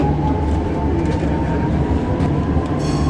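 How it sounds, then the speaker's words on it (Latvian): A tram in Czechia rolling along its rails gives a steady, loud rumble with faint metallic clicks and squeal, heard close from on board without any talking. "Jā, tramvajs kustās."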